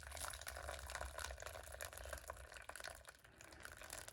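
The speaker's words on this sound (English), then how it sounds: "So once you pour the hot water on the tomato in a bowl" Hot boiled water pours onto a tomato in a bowl, a steady, faint splashing trickle that continues throughout.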